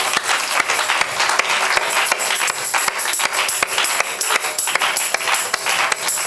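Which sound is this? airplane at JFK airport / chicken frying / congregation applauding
congregation applauding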